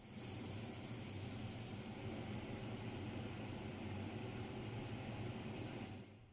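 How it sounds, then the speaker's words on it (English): Steady airbrush hiss of Vallejo rust paint being sprayed onto a grey model tank wagon shell, continuous and close, with no talking, cutting off abruptly at the end. "Next, I sprayed Vallejo rust."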